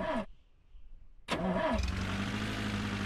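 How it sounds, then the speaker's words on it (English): A car engine in The Long Drive cranks briefly, goes quiet for about a second, then cranks again and catches into a steady, loud mid-pitched idle that runs to the end. "How do we start the car?"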